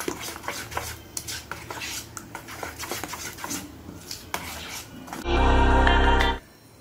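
Repeated scraping and clinking of a spoon stirring baking soda into thick rava idli batter in a bowl, followed by a loud, steady whir of a mixer for about a second.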